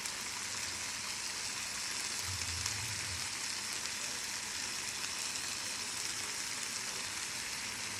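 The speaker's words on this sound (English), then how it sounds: "the pasta is boiling up" A pot of pasta at a rolling boil gives a steady, hissing bubble that sounds like light rain, continuous and unvoiced for the whole stretch.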